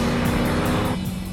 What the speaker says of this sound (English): The engine a bit empty, still making plenty of noise.